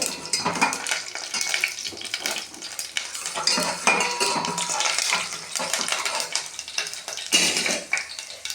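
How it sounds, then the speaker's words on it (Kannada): Mustard seeds, urad dal and chana dal spluttering in hot coconut oil while tempering mosaranna, a dense steady crackle of popping seeds with some metallic clinks of a spoon against the pan, close and continuous with no talking. "1 ಸ್ಪೂನ್ ಸಾಸಿವೆ ಹಾಕಿ ಅದು ಚಟಪಟ ಅಂತ ಸಿಡಿದ ಮೇಲೆ"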